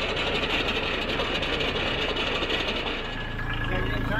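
A Kubota B2650 tractor with a 63-inch two-stage snowblower runs steadily in deep snow, a loud continuous mechanical drone with a whirring fan, dipping briefly near the end before resuming.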